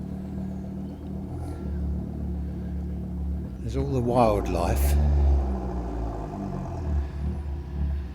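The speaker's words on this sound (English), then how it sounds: "some idiot in a car has cut his exhaust pipe off" A car with its exhaust pipe cut off rumbles loudly nearby on the Isle of Wight, a deep droning roar that swells as it passes, with someone talking over it.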